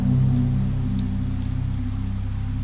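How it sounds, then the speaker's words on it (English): Rain patters against a bar window on a rainy evening in Lyon, a steady, dense hiss of drops with a constant low hum beneath, even and unbroken throughout. "The rain is pattering against the window, creating a soft, rhythmic melody."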